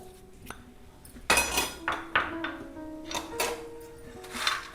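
Makhana chivda with rock salt tossed in a pan, a series of loud rattling, clattering bursts as the crisp pieces shift against the metal, close and uneven.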